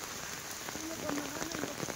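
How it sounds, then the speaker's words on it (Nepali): Heavy rain pours onto a flooded town market near a checkpoint, a dense steady hiss of drops hitting surfaces close by, with scattered louder splashes and no voices. "यो आज पानी वर्षा धेरै छ"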